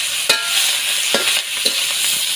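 Leafy greens sizzle steadily in hot oil in a village kitchen in Bangladesh, with a few soft scraping stirs cutting through the constant frying hiss; no voices.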